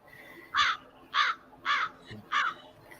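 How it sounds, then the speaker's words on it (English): Crows caw outdoors during a tense street confrontation, giving four evenly spaced harsh caws over about three seconds. The calls are moderately near and clear against low background noise, with no talking over them. "Damn crows."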